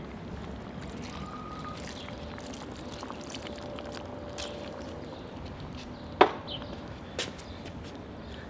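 Water pours steadily into a pot of Azerbaijani lamb buglama over a low background hum, with a sharp clink near the end.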